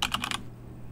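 Four quick computer keyboard key presses for shortcuts in an office setting, evenly spaced clicks close to the mic, then quiet room tone.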